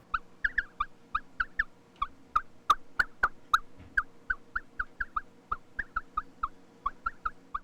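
Modular synthesizer patch imitating birdsong: rapid chirping tweets repeat in a steady stream, with a few sharper clicks in the middle, fairly close and alone.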